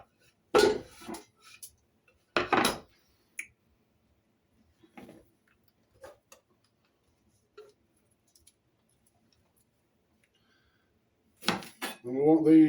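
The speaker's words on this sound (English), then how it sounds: "put the onion in the pan" Chopped onion clattering into a pan while chilli is being made, a few sharp knocks and scrapes of utensils against cookware spaced out over quiet gaps, with a brief louder clatter near the end.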